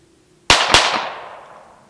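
Two sharp, loud unsuppressed pistol shots from a Glock 34 firing Federal 147 grain subsonic rounds at an outdoor range, a quarter second apart, each cracking hard and ringing out in a lingering echo.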